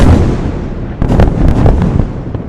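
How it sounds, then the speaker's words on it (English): Airstrikes by fighter jets bombing underground tunnels in Gaza set off loud, rumbling explosions: a continuous roar, then a run of sharp, heavy blasts bursting one after another, with no voices. "The sound of explosions roared as dozens of fighter jets bombed what Israel said were underground tunnels used by Hamas."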